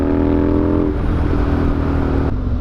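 A motorcycle with a quickshifter accelerates hard, its engine note rising loud and close before a quick, clean shift drops the pitch and it pulls on.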